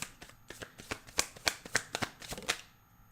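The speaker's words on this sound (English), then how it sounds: "You're making me shuffle a lot, air signs." Tarot cards being shuffled by hand, a quick run of crisp riffling flicks in an irregular rhythm, close and fairly quiet, with no voice over it.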